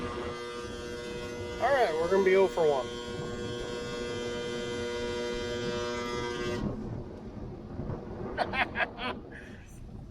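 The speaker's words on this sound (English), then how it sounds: "the pump panel just made that noise" Irrigation pivot pump panel at the first water run of the year, giving a steady, loud electrical hum that cuts off after about six and a half seconds, with someone speaking briefly over it.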